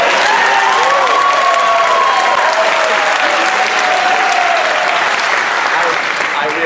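Audience applause erupts at a political debate in Nevada, loud and sustained for the whole stretch, a dense wash of clapping with some voices and calls mixed in.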